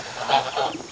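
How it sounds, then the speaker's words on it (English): Runner ducks give two quick nasal quacks close by, one right after the other, in a short burst over light background noise. "They're runner ducks."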